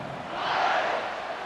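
A stadium crowd at a college football game between Texas and Arkansas swells in a broad, distant roar of cheering that rises and holds briefly, soft and diffuse with no single voices standing out.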